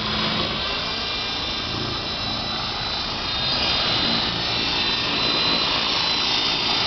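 A V913 RC helicopter fitted with a new brushless motor, ESC and receiver board runs at full throttle, giving a steady, loud, high-pitched whine with rotor hum that swells slightly midway and holds constant throughout.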